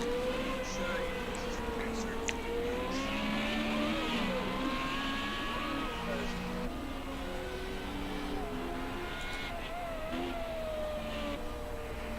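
Race cars in a Renault 3.5 sim race, engine tones rising and falling as cars pass and overtake, a continuous drone heard under steady commentary.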